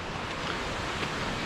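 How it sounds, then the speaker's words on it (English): A waterfall rushes steadily on a mountain hike in the Enchantments near Leavenworth, a broad, continuous roar of falling water heard up close with no voices over it. "So cool waterfall."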